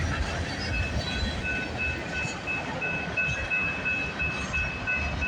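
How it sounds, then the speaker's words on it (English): A CP freight train rolls past nearby, with a steady loud rumble of wheels on rails and faint high squeals, no voices. "There's the end of that CP train."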